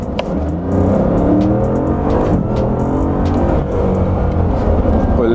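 Bugatti Chiron with its 1500-horsepower engine accelerating hard, a loud, close, sustained roar with rising engine harmonics as it pulls through the revs, and no talking over it.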